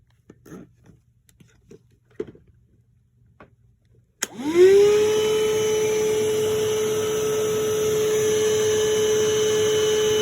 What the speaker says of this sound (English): I'll turn on the vacuum and see what happens.